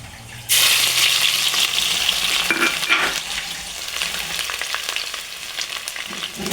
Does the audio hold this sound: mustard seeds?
yes